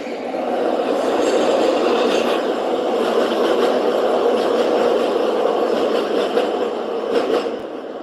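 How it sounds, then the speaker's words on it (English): A train rolls past close by, giving a loud, continuous rumble with faint rail clatter and occasional squeals that holds for about eight seconds, with no one speaking. "hold on, this train going by"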